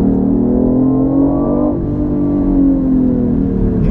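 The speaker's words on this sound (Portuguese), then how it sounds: "Agora eu dei uma pisadinha. Olha que carro legal de acelerar." A BMW i8 hybrid sports car with an electric motor and combustion engine accelerates hard, its engine note rising loud and close, easing briefly midway, then climbing again, with no talking over it.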